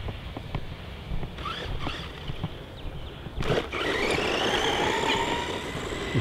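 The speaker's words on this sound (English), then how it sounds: "Alright, let's kick up some dirt over this side." A WLToys 104009 1/12 scale 4WD RC monster truck drives over gravel and dirt, producing a rough, crunching scrape with ticks and whirring motor whine that builds to a louder, sustained grind in the second half.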